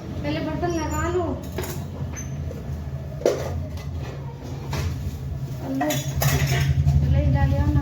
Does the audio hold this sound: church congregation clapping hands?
no